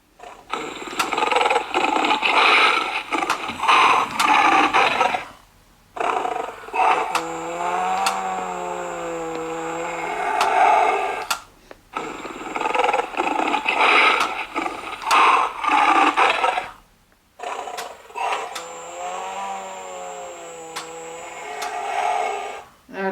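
An animatronic lion plush toy from 2000 Animal Planet lets out a rough, rumbling growl over a mechanical whirring motor. The growl repeats in several similar bursts separated by brief pauses, loud and close.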